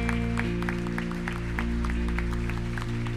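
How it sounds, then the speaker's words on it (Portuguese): Church congregation clapping at a Christmas service, a moderate steady patter of applause over sustained organ-like tones that carry through the whole stretch. "poderíamos todos juntos aplaudirmos uns aos outros por esse ano incrível de serviço"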